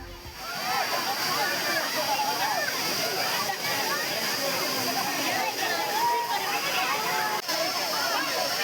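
Agasthiyar waterfall in Nellai district thunders in a steady, loud, close roar of splashing water, with the voices of a crowd of tourists blended into the rush.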